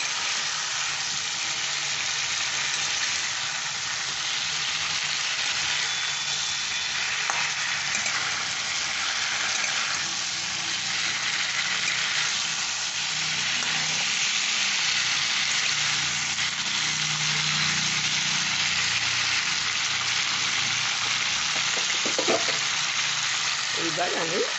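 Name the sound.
cauliflower frying in mustard oil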